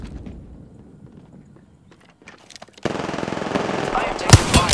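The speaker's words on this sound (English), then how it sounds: "I am taking fire, friends." Gunfire in the shooter game Apex Legends: after a quieter stretch with soft sounds, dense rapid automatic fire erupts and continues loudly, with some heavier shots near the end.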